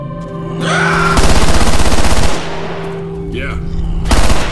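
Machine gun fire in Left 4 Dead 2: a loud, rapid burst lasting about a second, then a shorter close burst a moment later, with game sounds between.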